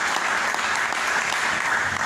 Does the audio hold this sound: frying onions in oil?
no